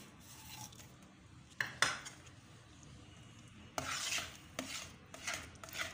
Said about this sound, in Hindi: और अब हम इसमें ड्राई फ्रूट डालेंगे।